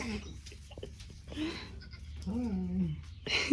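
Goats at a camp give a couple of faint, wavering bleats a second or so apart, over a quiet background with some nearby voices.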